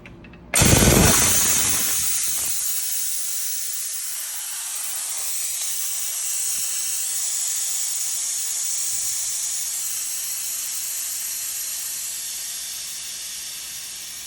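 Compressed air rushes out of an emptying air tank's line after a line shut-off valve is opened, a sudden loud burst that settles into a long, steady hiss, close by, with no talk.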